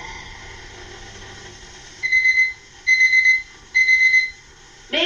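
An imported alarm clock in a 1993 Turkish TV advert rings in three sharp, bright electronic beep bursts at a steady pace, close and loud over a faint background hum.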